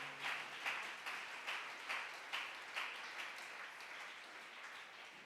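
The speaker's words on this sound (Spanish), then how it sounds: "Dele ese aplauso al Señor." A church congregation applauds, the clapping fairly faint and distant in the sanctuary, swelling in rhythmic pulses about twice a second before gradually thinning out, with no voices over it.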